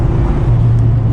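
Steady low engine drone from a 2020 Honda Civic Si fitted with a PRL Cobra cold air intake, heard from inside while cruising, a constant loud hum with no voices.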